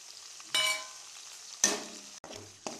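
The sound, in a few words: ginger garlic paste frying in pan with browned onion paste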